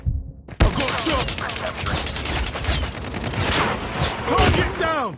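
Rapid bursts of automatic gunfire ring out in Call of Duty: Mobile, dense and loud across a multiplayer firefight, with sharp shots, ricochet-like whines near the end and brief voice callouts mixed in.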